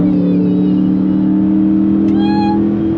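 Chrysler 300S with a 5.7 Hemi V8, Carven exhaust and mid muffler delete, droning loudly and steadily with a deep, continuous rumble throughout.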